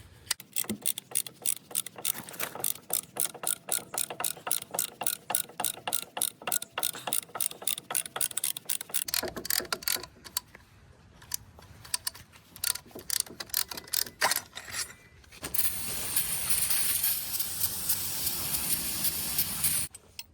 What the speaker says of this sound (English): now I have an SP tool ratchet